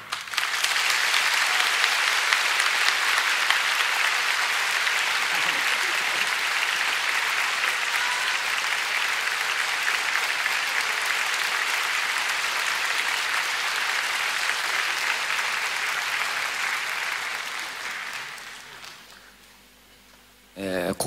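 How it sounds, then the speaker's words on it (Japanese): A concert hall crowd at a 2007 rock show in Shibuya greets a guest keyboardist with loud, dense applause. It holds steady for about eighteen seconds, then fades away before the next sound begins. "今日はキーボードで迎えているのでですね、盛大な拍手で、"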